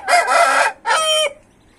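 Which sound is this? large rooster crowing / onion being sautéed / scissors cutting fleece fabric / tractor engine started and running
large rooster crowing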